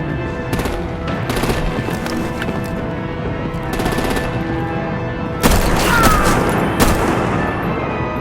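Gunfire from the Batman: The Enemy Within video game, loud rapid machine-gun bursts and shots over a dense action soundtrack, with a sharp louder blast partway through.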